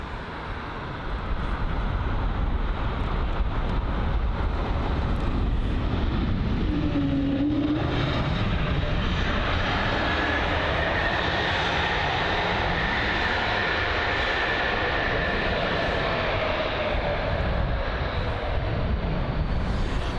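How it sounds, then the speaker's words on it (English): An Airbus A220 landing at London Heathrow, its jet engines building to a loud, steady roar that fills the scene and holds with a broad rushing tone, heard alone without voices. "the A220's landing, not landings, but engines do sound much louder than that of the A320 Neos that we've heard today"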